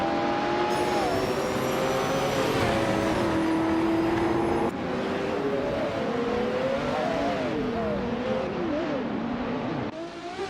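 Race car engines in a racing video game rev and whine continuously and loudly, with rising and falling pitch sweeps as several cars accelerate and pass, and no talk over them.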